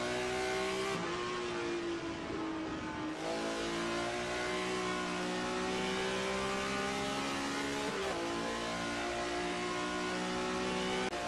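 A BMW M1 Group 5 race car engine in a sim racing game at Lime Rock, heard on board as it revs high and steady, dropping briefly on gear changes before climbing again, loud and continuous with no talking.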